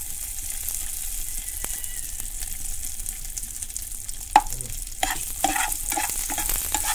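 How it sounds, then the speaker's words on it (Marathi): Cashews, almonds and raisins fry in a pan for beetroot halwa. A steady hiss of sizzling runs throughout, close and moderately loud, and near the end a spoon scrapes and stirs through the nuts with a few clinks. No one speaks. "त्यानंतर आपलं काजू बदाम आणि मनोके याच्यात फ्राय करून घे।"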